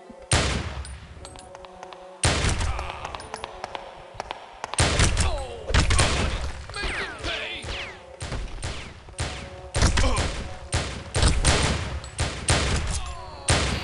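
Gunfire in a secret-service security-breach video game: loud, close bursts of shots and rapid volleys in clustered groups with brief gaps, mixed with thuds and slams.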